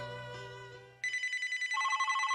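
A mobile phone rings alone, a bright repeating electronic ringtone pulsing in short even bursts after a fading tonal chime.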